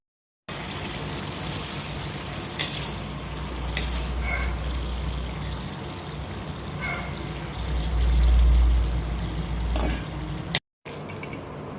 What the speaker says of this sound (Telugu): మంచిగా నూనెలలో ఉడకాలి అంటారు, వేయించాలి అంటారు, కానీ మొత్తానికి ఇలా నూనెలో ఉంచాలన్నమాట.